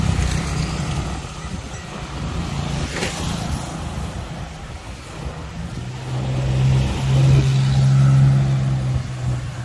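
A tuk-tuk on a Bangkok street near Langsuan Road, Chit Lom: a constant rumble of traffic and wind, with a low engine drone that swells as a vehicle passes close in the last few seconds, and no speech.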